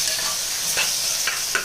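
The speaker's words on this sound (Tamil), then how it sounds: "நல்லா மிக்ஸ் பண்ணி விட்டுக்கோங்க." Tomatoes with ginger-garlic paste being stirred in a hot pan for a vegetable kurma, a steady close sizzle with a few scraping spoon strokes and no talk.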